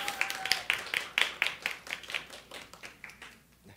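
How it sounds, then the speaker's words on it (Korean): A small Korean church congregation claps during a Sunday service, a few seconds of fairly faint, uneven clapping that thins out toward the end. "우리 박수를 하나 듣겠습니다"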